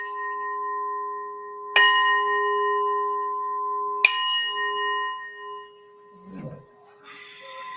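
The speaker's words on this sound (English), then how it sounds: "I have bells, wind chimes galore" Two clear bell strikes ring out a couple of seconds apart, each leaving a long, shimmering tone that slowly fades, followed by faint rustling.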